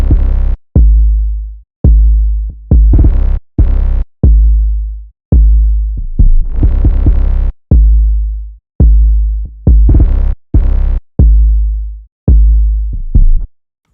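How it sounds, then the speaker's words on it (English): Two layered 808 bass patterns, one of them the Solo 808 from the Trinity kit, pound out loud booming hits in a bouncing rhythm, each note decaying with gliding pitch, repeating for about fourteen seconds. "And then I added another 808 from the Trinity kit."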